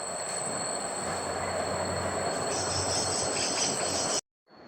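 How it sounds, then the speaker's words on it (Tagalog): The roar of Malibic-libic Falls in Bailen, Cavite carries as a steady, dense rush of water with a high insect-like whine on top. It holds loud and unbroken for about four seconds, then cuts off abruptly. "Rinig na yung falls."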